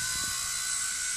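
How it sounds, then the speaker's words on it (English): Blade mCP X remote-control helicopter in flight, a steady high-pitched whine and rotor buzz that holds loud and close throughout. "very stable helicopter"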